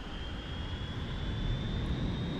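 An F-15 jet in the SimplePlanes VR flight game taking off from a short aircraft carrier, a steady loud engine roar with a thin high whine held constant across the whole moment.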